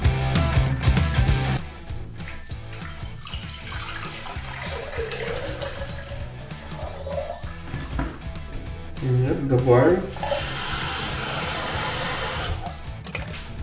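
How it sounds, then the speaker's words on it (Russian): Cold water runs steadily from a tap into an electric kettle, with clattering handling noises and some background voices. "сразу же я набираю сюда холодную воду"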